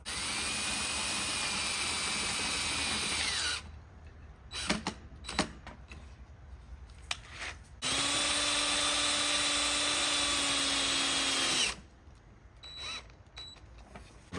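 A power drill drives #6 by 1/2 inch self-drilling, self-tapping screws into a Razor E100 electric scooter, giving two steady high-pitched whirring runs of a few seconds each, separated by quieter clicks and handling noises.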